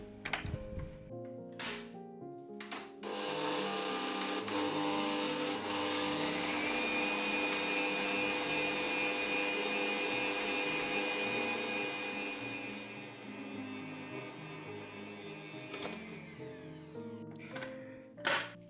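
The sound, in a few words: electric mixer beating butter and dulce de leche into cream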